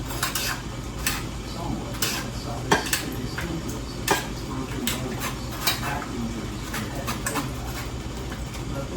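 A metal spoon scrapes and clinks inside a can, pulling out clams and their juice while cooking a canned red sauce for spaghetti; quick, close ticking scrapes in irregular bursts, with no talking.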